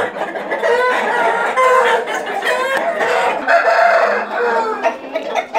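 Young chickens in a coop make a loud, busy chorus of clucking and squawking, with rooster-like crowing calls rising over the flock, close and continuous throughout.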